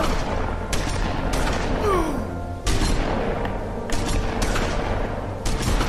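Enemy gunfire in The Wolf Among Us video game, a loud dense volley of shots and impacts over a heavy rumbling background, continuous through the scene.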